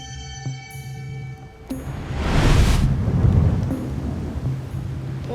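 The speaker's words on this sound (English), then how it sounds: "Oh, can you hear that thunder?" A deep rumble of thunder rolls in from a storm on an island, swelling into a broad, noisy roar after a low hum and holding loud and steady, with wind noise on the microphone.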